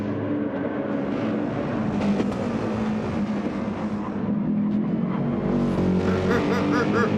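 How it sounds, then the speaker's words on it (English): Race cars in a racing video game lap the Nurburgring, engines droning loudly and continuously while the tyres give off a wobbly, uneven skid noise through the corners instead of a smooth squeal. "You can hear them just around the corners when it should be a nice smooth skid noise"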